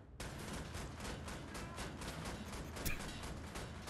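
Sustained gunfire in the shooter game Wolfenstein: The New Order, a rapid unbroken stream of shots at a steady loud level throughout, with one sharper burst near the middle.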